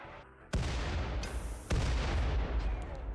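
High-explosive shells detonate in the video game RimWorld Biotech: two heavy booming blasts in quick succession over a dense, rumbling background of battle noise.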